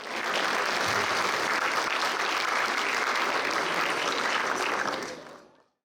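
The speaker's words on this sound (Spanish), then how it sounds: "Por favor, un aplauso para el doctor Rafael Olea Pérez." An audience at an academic symposium on water management breaks into full, sustained applause, dense and even for about five seconds before fading quickly to silence.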